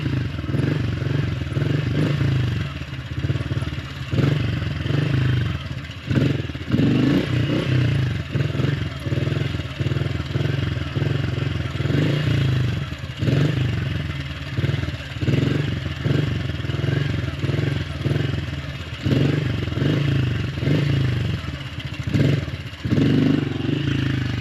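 A Honda CRF110 dirt bike ridden in circles, its small engine droning steadily with rhythmic throttle pulses and some clatter, loud and close throughout.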